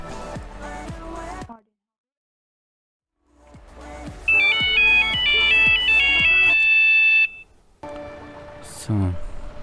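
A phone ringtone in the farming game Farming Simulator 19 plays as a repeating electronic beeping melody, fairly loud and clear, among game sounds and someone talking.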